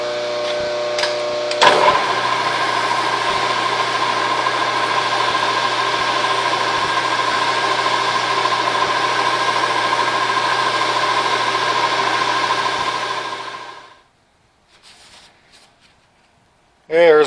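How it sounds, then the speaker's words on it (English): An Allis Chalmers WD45 tractor spindle spins on a lathe while emery cloth polishes it: a steady, close mechanical whir with a gritty, rustling rub that runs about twelve seconds, then winds down into near silence. "that should polish out with the emery cloth. So I'll get started doing that"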